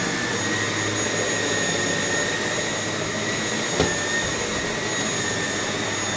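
A steady, loud roaring whine of a Samsung bagless canister vacuum running continuously on high pile carpet, with a brief bump partway through and no talking.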